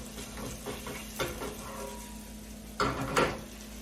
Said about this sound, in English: Because now I'm going to flip it to the other side.